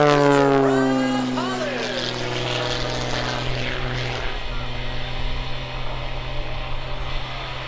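An MX-2 aerobatic propeller plane flies at the 2013 Lehigh Valley Airshow, its engine drone rising and falling in pitch as it passes, loud at first and then easing, while an announcer talks over the public address.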